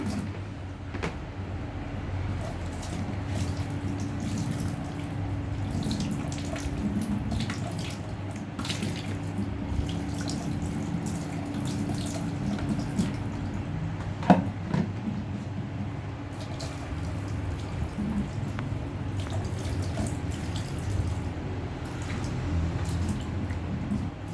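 Dishes are washed by hand under a running tap, a steady soft stream of water at moderate distance with occasional drips, splashes and a single sharper clink partway through.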